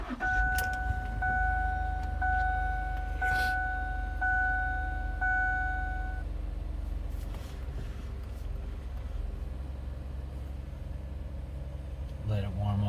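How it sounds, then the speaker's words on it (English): A 2007 Ford Edge SEL engine runs at a low, steady idle close by, with a chime repeating for a few seconds early on and a few clicks and rustles over the hum. "Let's hear what this vehicle sounds like."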